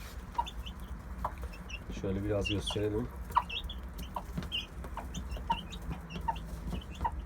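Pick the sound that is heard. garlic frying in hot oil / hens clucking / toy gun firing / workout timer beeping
hens clucking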